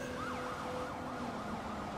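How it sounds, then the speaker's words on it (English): A police siren in the video game Watch Dogs 2 wails steadily, its pitch sweeping up and down in a fast repeating cycle. It stays loud and continuous throughout, with no talking. "That's the sound of the police."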